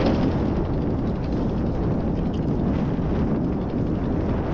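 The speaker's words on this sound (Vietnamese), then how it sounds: "gió quá trời gió luôn." Strong wind roars against the microphone on open water while shrimp traps are hauled in stormy weather, a loud, continuous, buffeting rumble throughout with no pauses.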